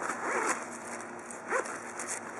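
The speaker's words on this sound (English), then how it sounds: "Open it up, it has two" The zipper on an Umbro Speciali boot presentation case is pulled open in two short, quiet scratchy runs, close by and without talk.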